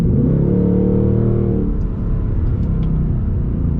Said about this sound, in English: People love how this car sounds.